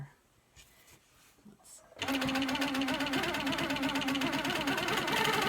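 An HQ Sweet 16 sewing machine stitching a quilt starts up after a quiet stretch of faint rustling, then runs with a dense, rapid mechanical whir and needle clatter, close and steady.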